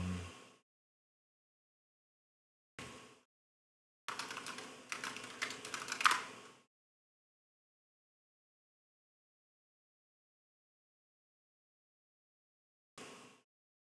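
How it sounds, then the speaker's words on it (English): Computer keyboard taps come in short isolated bursts separated by silence, with a denser clattering run of typing in the middle, close and fairly faint. "keyboard taps keep making it in more than you'd like"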